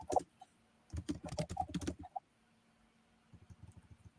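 Keys clattering on a computer keyboard in rapid bursts, close and moderately loud, with short pauses between runs and a quieter patch of typing near the end; no one speaks.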